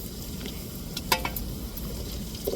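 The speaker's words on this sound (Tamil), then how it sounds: "இப்படி எல்லா இறாலையும் நம்ம கொஞ்சம் கொஞ்சமாக போட்டு எண்ணெயில் பொரித்து எடுத்துக்கிடுவோம்" Prawns deep-fry in hot oil with a steady, close sizzle and crackle, broken once by a brief metallic clink of a utensil against the pan.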